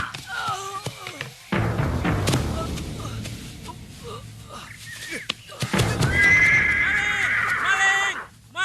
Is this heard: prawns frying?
no